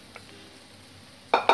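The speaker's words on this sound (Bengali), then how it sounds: "ডিমগুলো দিয়ে দিচ্ছি" Eggs going into a hot pan for egg chowmein, heard as two quick metallic clatters of a utensil against the pan right at the end after a quiet stretch.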